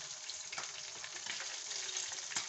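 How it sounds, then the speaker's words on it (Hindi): Fish fries in oil with a faint, steady sizzle and light crackling that continues evenly throughout, heard quietly with no voices. "ये हमारी फिश जो हमने डाली हुई थी ये फ्राई हो गई"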